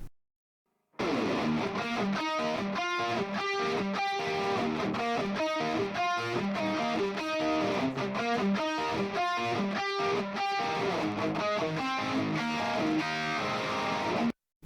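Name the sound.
guitar riff played with distortion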